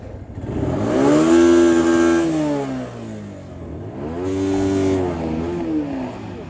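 A 2006 250cc motorcycle engine revving hard twice, each rise climbing to a loud, strained whine before easing off, close and clear with no talk over it.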